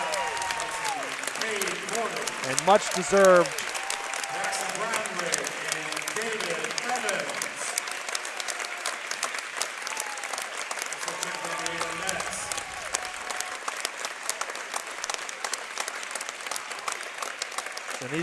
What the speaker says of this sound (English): get an ovation here from the crowd